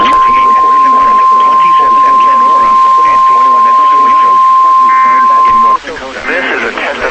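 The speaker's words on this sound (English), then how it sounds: "The attention signals you just heard will automatically activate special receivers to warn of the impending hazard." NOAA Weather Radio warning alarm attention signal, a single loud continuous steady tone lasting almost six seconds, sounding beneath an announcer's voice before it stops and the talk carries on alone.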